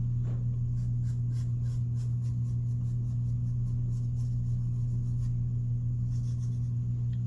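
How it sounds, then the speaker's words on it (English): Pencil drawing a face on paper, a steady series of short scratchy strokes repeating throughout over a constant low background hum, close and fairly faint. "I'm holding my pencil really loose, not really hard"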